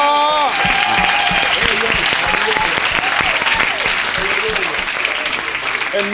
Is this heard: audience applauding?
yes